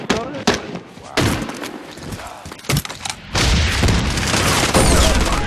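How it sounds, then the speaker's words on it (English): Heavy blasts from an assault-kit shotgun in the Medal of Honor Warfighter video game, with several close, booming shots followed by sustained loud combat noise. "Shotgun from the lead."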